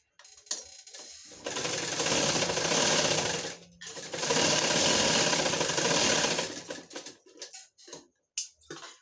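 A sewing machine stitches a princess-cut blouse, its fast needle chatter running in two sustained bursts of about two seconds each, close and loud, with short handling clicks and pauses around them and no talk.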